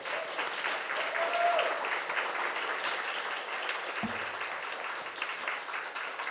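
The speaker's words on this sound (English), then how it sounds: "can we please get a round of applause for the organisers?" A crowd at an event at State Library Victoria claps steadily, a dense even patter of applause that carries on without pause.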